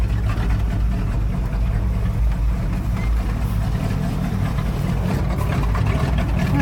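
A truck engine idles cold just after starting on a snowy winter day, a steady low rumbling drone that runs continuously and fairly loud throughout.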